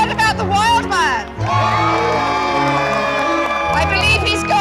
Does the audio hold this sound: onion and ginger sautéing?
no